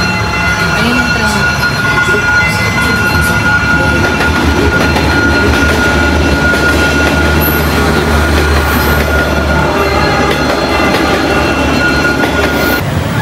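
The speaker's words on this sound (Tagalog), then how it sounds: "Naririnig nyo ba yun? Yun yung train." A train rumbles past in Ho Chi Minh City, a loud, continuous roar of wheels and carriages with rattling and faint high squeals, steady throughout at close range, with voices talking under the din.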